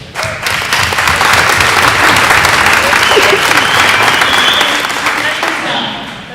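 An audience at an NKU alumni weekend event breaks into loud, sustained applause that swells quickly, holds dense and steady for several seconds, then fades near the end.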